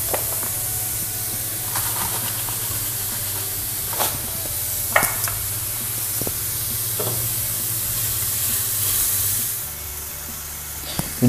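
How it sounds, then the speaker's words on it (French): Apples with brown sugar fry in a very hot pan, a continuous loud hiss and crackle with occasional clinks and stirring knocks, running steadily throughout. "je mets dans une poêle très chaude mes pommes avec un peu de cassonade"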